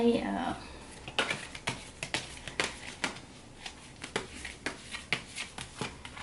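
Tarot cards are shuffled and flicked for a reading in a series of crisp, close riffling snaps spaced irregularly after a brief opening voice, fairly quiet and otherwise alone.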